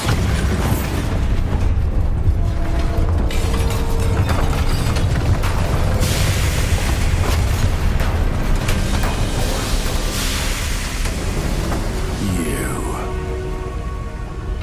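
Bombarda explosion spells in the PS5 game Hogwarts Legacy: dense, continuous booming blasts and crackling debris that fill the whole stretch without a break.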